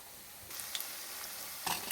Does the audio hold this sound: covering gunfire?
no